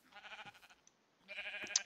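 Sheep in the Minecraft video game bleating: two short, wavering bleats separated by a brief pause, clear and fairly close, with no talk over them.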